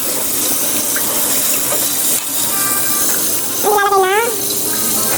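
A pot of liquid for fried chicken gravy boils on the stove, giving a steady, close hiss and bubbling that runs throughout, with a brief voice rising over it near the end.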